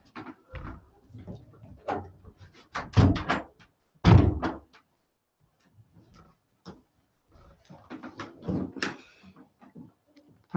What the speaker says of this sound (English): I'm going to just shut this door because I've got background noise and it's annoying me.